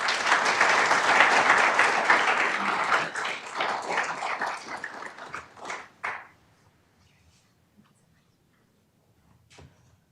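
Applause from a lecture audience in a hall welcoming the speaker, a dense wash of clapping that thins into scattered claps and fades to near silence, with one last faint clap.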